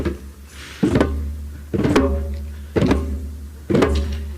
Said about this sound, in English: A bass is made by hitting the middle of your drum, like this.